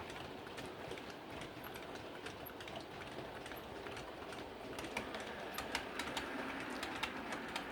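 A faint, continuous rolling rattle of a model railway train, a pair of Class 20 locomotives hauling a coke train on track, with light clicks and ticks over a low hum; no talking.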